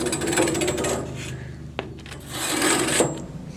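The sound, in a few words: stick rubbed on sawmill band blade to remove burrs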